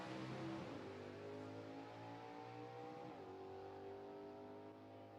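A 1967 Camaro Superstock drag car at Rockingham Dragway revs hard as its engine climbs through a gear change, a loud sustained harmonic roar from the launch that steps down in pitch and slowly fades into the distance, with no voices.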